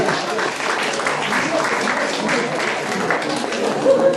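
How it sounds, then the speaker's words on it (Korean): Steady audience clapping at a fusion concert event, moderately loud and sustained, with faint voices mixed into the crowd. "자, 박수 한번 쳐줄까요?"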